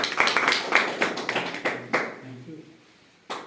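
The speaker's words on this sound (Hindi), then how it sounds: "तो मैं जबरदस्त आप लोगों को क्लैपिंग के बीच में इनवाइट करना चाहूंगा तरश्याम सर" An audience at an educational business presentation claps, a dense burst of applause that tapers off and fades, followed by a single louder clap near the end.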